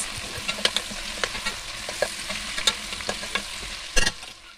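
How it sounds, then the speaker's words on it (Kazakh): Meat sizzles and fries in a pan with sweet pepper and garlic, a steady bright hiss broken by repeated scraping stirs and a louder clatter near the end, with no voices. "Етіміздің үстінен тәтті бұрыш пен чесногымызды салып, тағы да 5 минут қуырамыз."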